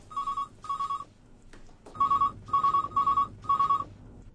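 A telephone rings indoors with repeated bursts of a bright electronic bell in steady pairs, fairly close and clear over a quiet room.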